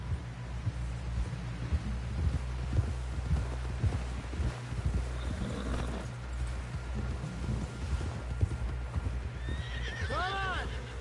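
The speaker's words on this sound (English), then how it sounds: "Someone help John down off this horse." Horse hooves clip-clop steadily in Red Dead Redemption 2, with a horse whinnying near the end, set against a low ambient drone and faint background sounds.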